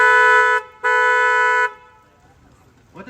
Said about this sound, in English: I'm gonna honk the horn 2 times, so don't be alarmed